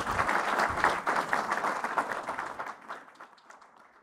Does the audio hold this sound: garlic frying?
no